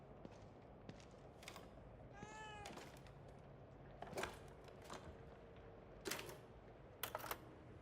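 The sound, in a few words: cat meowing in video game The Evil Within 2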